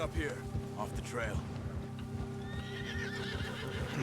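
A panicking horse in Red Dead Redemption neighs and whinnies while its hooves clip-clop on a trail, close and steady, with a voice speaking over it.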